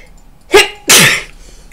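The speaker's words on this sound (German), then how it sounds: "Sorry, muss niesen." A single person sneezes nearby with a short sharp intake and then a loud, breathy burst, sounding close and clear against a quiet room.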